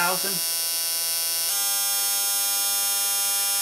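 A Yamaha Banshee 250R CDI ignition fires on a spark tester at 6,000 RPM, giving a loud, steady high-pitched buzz of rapid sparks that shifts to a higher pitch partway through and then holds constant.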